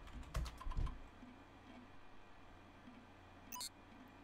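Quick bursts of keyboard typing in the video game SUPERHOT, a few clustered clicks near the start, then quiet ambience and a short electronic beep near the end, with no talk.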